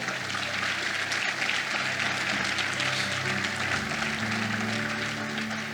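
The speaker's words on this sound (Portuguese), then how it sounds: "Quem está entendendo, aplauda o nome do Senhor." A church congregation applauds during a sermon, a steady dense wash of clapping that fills the space evenly from start to finish, with faint background tones beneath.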